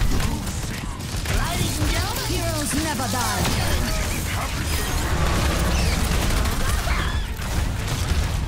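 Rapid gunfire bursts and clattering mechanical effects from the video game Overwatch 2, dense and continuous, with voices talking over the action.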